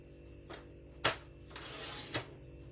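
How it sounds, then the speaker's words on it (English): Paper trimmer slicing cardstock for a Stampin' Up! fun fold card: a few short, crisp cutting strokes at close range, one sharper stroke near the start and another near the end, with a soft sliding sweep between them and no talk. "I'm going to use this side of the trimmer on the left side."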